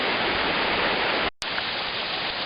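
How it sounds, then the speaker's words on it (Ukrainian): A distant waterfall at the Shepit falls gives a steady, dense rush of falling water, broken only by a brief cut near the middle. "ось вдалині ще один водоспад"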